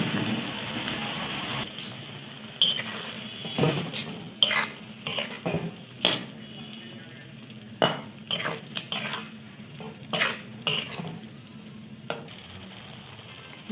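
Prawns stirred and frying in a pan with mustard, poppy seed and green chilli, giving a steady sizzle broken by repeated spoon scrapes and clinks against the pan, close and moderately loud.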